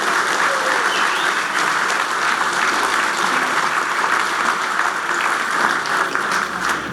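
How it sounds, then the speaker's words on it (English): Attendees at an annual general meeting give a sustained round of applause, a loud, even wash of many hands clapping with no break. "How about a round of applause for all these people?"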